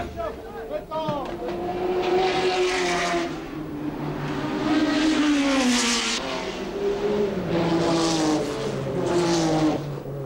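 Rothmans Porsche race car at Spa, its engine droning loud and near with rising and falling pitch as it pulls away, steady throughout with other racing noise behind.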